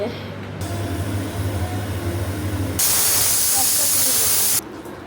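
Pressure cooker on a stove cooking chicken stew lets out a loud sustained steam hiss that starts abruptly and cuts off after a couple of seconds, over steady kitchen background noise.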